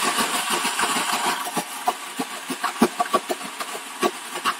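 A Slush Puppie slushie maker's motor hums steadily with rapid, irregular clicking and knocking over it, close by and moderately loud.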